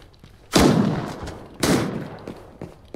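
Two bursts of hip-fired gunfire from a weapon in the Arena Breakout Infinite game, each a loud sharp blast with a decaying tail about a second apart, then faint quieter shots.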